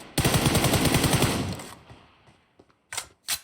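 An M4 rifle in the mobile game PUBG fires a rapid automatic burst of about a dozen shots for roughly one and a half seconds, followed by a few sharp isolated clicks and bursts.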